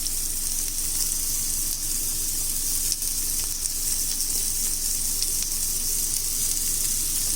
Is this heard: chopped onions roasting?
yes